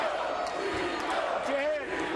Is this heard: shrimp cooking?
no